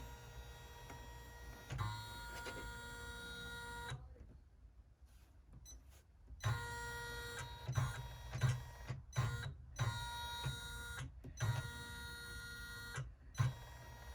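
An embroidery machine stitches an inset zipper pocket onto a bag flap held in its hoop, a rhythmic mechanical chatter with thumping needle beats, briefly pausing mid-way before resuming, up close and without talk.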